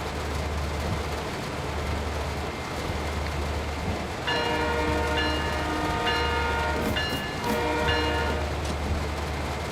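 A simulated locomotive in Train Sim World 5 rumbles steadily at low pitch while its multi-tone horn sounds in several sustained blasts of varying length over the engine drone, loud and close, with no talk.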